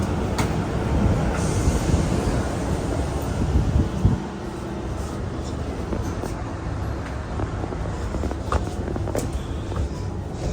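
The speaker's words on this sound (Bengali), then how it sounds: "আমরা ট্রেনে করে চলে যাচ্ছি আমাদের পরবর্তী গন্তব্য রাবাতে।" Interior of a moving double-decker train travelling from Casablanca to Rabat in Morocco, a continuous low rumbling roar of wheels and carriage with occasional rattles and a brief knock, no talking.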